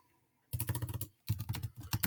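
Quick bursts of typing on a computer keyboard for a Google Classroom assignment, close and crisp, in two runs of rapid keystrokes separated by a short pause.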